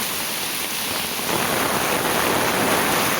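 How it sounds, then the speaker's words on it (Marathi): Torrential monsoon rain falls on a Konkan village, a thick hissing downpour that swells slightly halfway through and keeps up without pause. "असला पाऊस पडतोय जबरदस्त."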